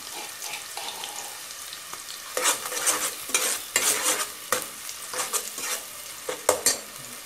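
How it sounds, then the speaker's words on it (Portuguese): Onion and garlic frying together in a pan for sausage-and-potato calabresa, a soft sizzle at first, then louder bursts of stirring and scraping against the pan in an uneven rhythm. "vamos deixar fritar a cebola e o alho junto"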